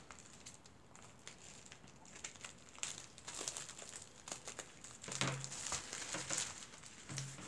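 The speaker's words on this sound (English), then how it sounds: "they have this bubble wrap here" Bubble wrap packaging on a mail-order diamond painting kit being handled and cut open, giving close, irregular crinkling and crackling that grows busier toward the end.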